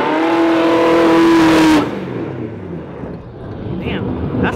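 A car engine revs hard and loud at close range, one sustained high whine that cuts off sharply, then a lower rumble as the car moves off, all without talk.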